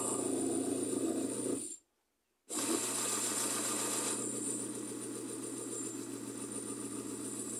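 A Mueller centrifuge motor running on a bench test after a capacitor was fitted gives a steady, rhythmic mechanical hum and rattle, which cuts out briefly once and then resumes at a slightly lower level.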